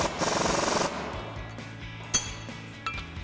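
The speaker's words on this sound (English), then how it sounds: "I'm gonna grab a 15 millimeter socket and a 15 millimeter wrench and tighten this down." A 15 mm socket and wrench tightening an end link bolt on a 2007-2018 Chevy Silverado 1500 during a front lift strut install: a rapid ratchet rattle up front, then a few sharp metallic clinks, close and loud.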